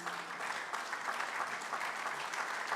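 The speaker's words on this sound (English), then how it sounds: "please just stand for a round of applause" Steady applause from a standing audience at a closing ceremony, a dense patter of many hands clapping continuously at moderate volume.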